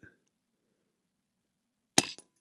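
A single sharp .22 air rifle report from a Brocock Ranger XR fired at a Gamo knockdown target outdoors, a sudden close crack with a brief tail and faint clicks after, otherwise near silence.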